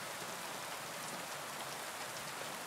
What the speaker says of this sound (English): Is this just cutscene rain, or have they actually improved the rain in the game significantly?